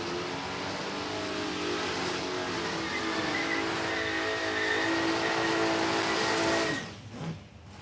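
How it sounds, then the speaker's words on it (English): A Holden Commodore wagon does a burnout at a Palmyra Raceway drag race, a loud, sustained engine roar with tyre noise that holds steady for several seconds, then drops away. "Nice big strong burnout from Daniel Dodds. Commodore wagon for him."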